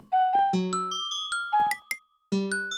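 Minecraft note block bell tones from packed ice, a series of bright, ringing chimes at varying pitches, each struck clearly and decaying slowly, with a short pause before a final strike.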